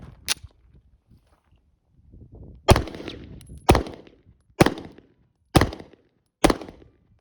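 A Staccato C2 pistol fires at about 10 yards on a range: one shot, a pause, then five sharp loud reports spaced roughly a second apart, each with a short echoing tail.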